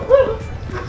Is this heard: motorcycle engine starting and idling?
no